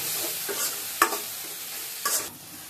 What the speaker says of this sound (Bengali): আর হচ্ছে জিরার গুঁড়া ভালো করে নেড়ে নেবো